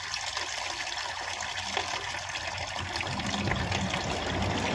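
Water being stirred to mix in soap and bleach for hand-washing clothes in a basin, a continuous close sloshing and swirling that grows a little stronger toward the end, with no voices.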